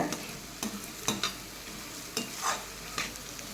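Beetroot sautéed in oil in a pan, a spoon stirring and scraping in a steady series of sharp strokes over a soft, continuous sizzle, close and moderately loud.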